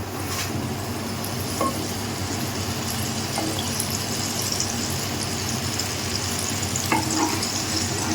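Stock poured into a pork sauce with wine and honey and stirred over a high flame, producing a continuous close, dense bubbling sizzle with occasional light scrapes. It stays steady throughout, with no voices.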